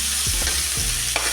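A spoon stirs beans frying over a low flame in a pan. The scraping sounds close against a continuous sizzle, with no talk.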